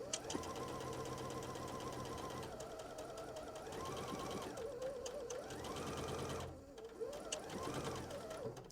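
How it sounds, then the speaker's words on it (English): A sewing machine stitches a quarter-inch quilt seam, whirring in a steady fast mechanical drone with rhythmic needle ticking that briefly slows and dips before resuming, close and fairly quiet. "I'm going to begin to sew."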